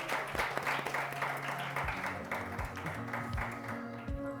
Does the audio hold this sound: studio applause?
yes